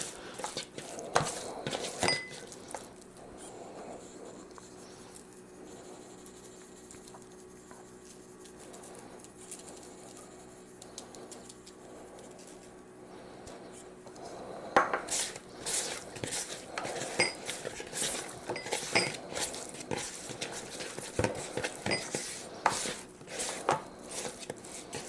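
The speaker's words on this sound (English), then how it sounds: "Give this stuff a good stir" Cajun quail pasta stirred in a pan, a loose series of utensil knocks and scrapes against the pan, faint at first and then louder and busier, with birds cooing in the background.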